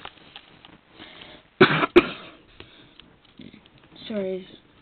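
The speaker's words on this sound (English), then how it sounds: "Sorry, coughing." Two sharp coughs come close together, loud and near, followed by a brief spoken murmur amid quiet background sounds.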